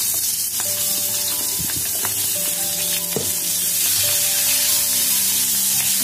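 Onion and capsicum fried on high flame in oil for restaurant-style paneer chilli, a loud, close, steady crackling sizzle with metallic spatula clinks and scrapes, no talking.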